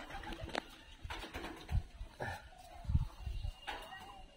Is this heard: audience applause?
no